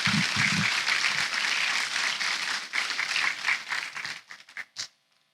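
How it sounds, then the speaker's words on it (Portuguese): Congregation applause in a church, a full burst of clapping from many hands that thins out into a few scattered claps before stopping, with a brief voice at the start. "Dê um forte aplauso ao Senhor."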